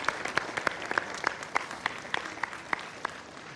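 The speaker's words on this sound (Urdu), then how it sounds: "بہت زیادہ تالیاں" Studio audience applause during a charity appeal segment on a television show, a steady, fairly rhythmic burst of many hands clapping at moderate volume with no talking over it.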